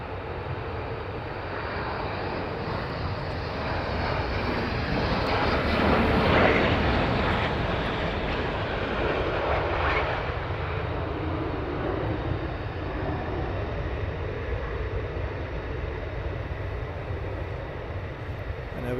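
F-35 fighter jets prepare for departure at RAF Lakenheath, heard as a continuous broad roar of jet engines at a distance, swelling slightly midway and holding steady throughout.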